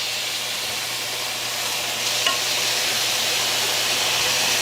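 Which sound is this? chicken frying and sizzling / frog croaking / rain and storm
chicken frying and sizzling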